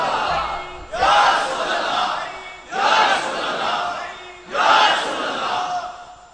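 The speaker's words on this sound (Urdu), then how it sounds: "حضور کا نعرہ لگاؤ, لبیک یا رسول اللہ کہو." A large crowd at a religious rally in Pakistan shouts a devotional slogan in unison three times, each loud collective burst rising sharply and fading before the next, with a gap of about two seconds between them.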